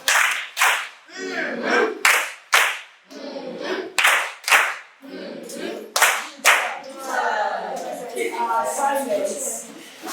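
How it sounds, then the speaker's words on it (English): Students in a classroom give a patterned cheer clap, sharp loud hand claps in rhythmic groups, alternating with people talking and chanting between the claps. "Give her a love clap"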